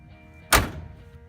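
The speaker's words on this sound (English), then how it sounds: "let's do the close the door test" The door of a 1969 Chevy Camaro fitted with an aftermarket seat slams shut in a single solid thunk, close and loud, briefly ringing before quiet returns.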